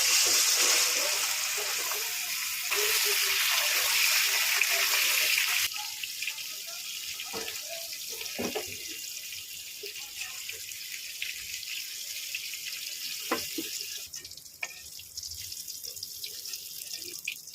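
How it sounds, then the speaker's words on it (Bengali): Pumpkin pieces fry in hot oil, a steady hiss and spatter that is loud at first, then settles into quieter crackling with scattered pops and sizzles. "তেল গরম হয়ে গেছে, এবার আমি কুমড়োটা একটু ভেজে নেব।"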